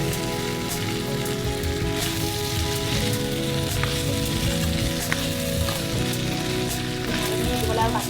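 Potatoes stirred in a local chicken curry, heard as a loud, steady sizzle and bubbling like rain on a surface, with occasional stirring scrapes underneath and no talking.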